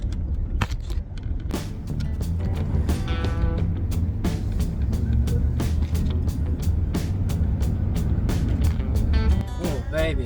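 A rust-free Chevrolet Silverado truck with a 700 transmission, running on fresh fuel, pulls away in first gear: a loud, steady engine drone with rattles and clunks over the whole stretch.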